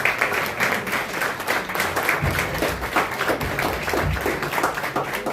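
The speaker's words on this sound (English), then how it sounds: "have a round of applause for her" Audience applause at a student award ceremony at Sandals Ocho Rios, St. Ann, Jamaica: steady, moderately loud clapping from a crowd that continues throughout without a break.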